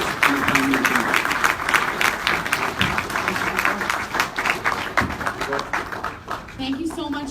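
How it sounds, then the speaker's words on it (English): A town hall audience gives a round of applause for four leadership candidates in Fort McMurray, with steady clapping that thins toward the end and scattered voices heard under it. "give all 4 candidates a round of applause in appreciation for their public service and their time here tonight"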